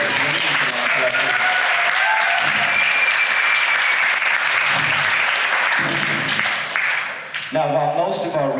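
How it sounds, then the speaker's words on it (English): An audience at a TED-style talk event breaks into sustained, loud applause, a dense wash of clapping lasting several seconds before dying down as a speaker's voice resumes. "Please, a round of applause for Young for all of this."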